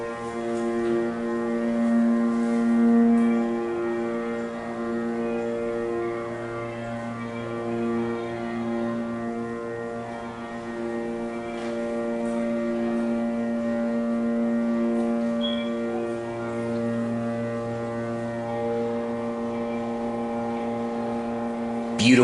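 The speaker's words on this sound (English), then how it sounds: "Beautiful motor, even though it's not original." Burlington/Dover hydraulic elevator motor running at Macy's, a replacement unit, producing a steady, loud droning hum that holds for the whole stretch with only slight swells and no speech.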